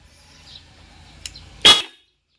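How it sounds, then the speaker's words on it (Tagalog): An NHAY 3 Pro musical horn for an e-bike or bicycle gives one short, loud, bright toot near the end, after a near-silent stretch with a faint tick or two. "So mapapagana natin yung busina natin."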